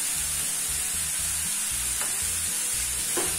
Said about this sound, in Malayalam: നല്ലോണം വഴറ്റുക.